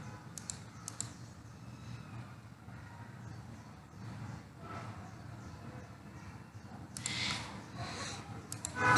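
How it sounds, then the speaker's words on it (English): Someone types on a computer keyboard at a desk, producing quiet, irregular clicks. A denser, louder burst of keystrokes comes near the end. "So here I'll be typing AliExpress, right?"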